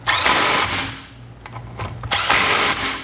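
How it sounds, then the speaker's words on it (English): An impact wrench tightens handlebar clamp bolts on a motorcycle, firing in two loud close bursts of rattling hammering separated by a quieter gap with short tool clicks. "These we want very tight, so we're using the impact to tighten these."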